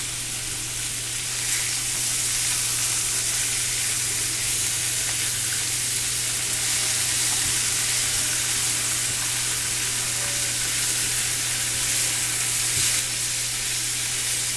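Apple sage pork chops sizzle steadily in a pan as they are stirred, a bright continuous frying hiss over a low steady hum, with no talking.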